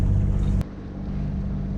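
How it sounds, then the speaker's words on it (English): Bavaria 41 sailboat motoring slowly through a Norwegian fjord (Hardangerfjord), a steady low engine drone and hull rumble throughout, with a brief louder burst of wind noise at the start. "motoring slowly in this fjord"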